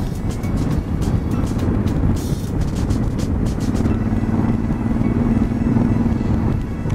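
A 2018 Honda Africa Twin Sport motorcycle's exhaust while riding, a steady low engine drone under wind rush, with sharp ticking patter that may be hail hitting the rider's helmet.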